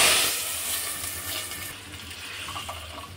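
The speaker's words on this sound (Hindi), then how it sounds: "रायता में तड़का लगा लेंगे।" A brief sizzling hiss as hot oil tempering with asafoetida is poured into spinach yogurt raita, loud at first and fading into a softer crackle.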